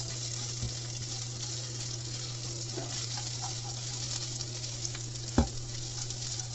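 Green chilies fry in a pan for upma with a steady, moderate sizzle under a low constant hum, broken by one sharp clank near the end.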